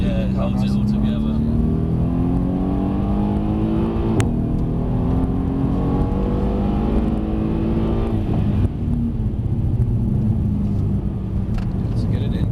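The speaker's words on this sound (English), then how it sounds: "Start to pick the power up. Keep going. Power, power, power." A Mercedes-Benz C63 S accelerating hard on a track, engine note rising steadily and loud up close, briefly easing around the middle then building again, with an instructor talking over it.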